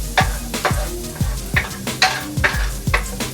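Garlic sizzles as it heats in a pan while being stirred, with a steady frying hiss under repeated scraping strokes of a utensil at a brisk, regular rhythm, close and fairly loud.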